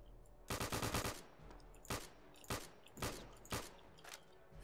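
In the video game Return to Castle Wolfenstein, a semi-automatic rifle fires a quick burst of several sharp shots, then single loud cracks at roughly half-second to one-second intervals, close and alone.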